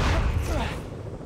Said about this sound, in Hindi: कहीं और धमाका भी हो रहा है।